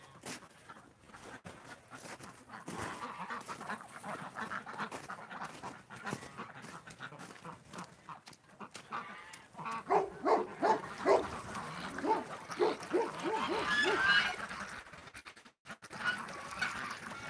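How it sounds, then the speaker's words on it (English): A dog barks repeatedly toward a blue jay near a barn, with panting and whimpery yelps in between, fairly close, the barking bunching up and growing busier toward the end of the stretch. "No, I don't know what he barks at."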